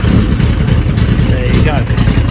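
A motorcycle engine given a quick blip of the throttle, loud and close, with a steady rumbling idle underneath and a brief rise in engine pitch.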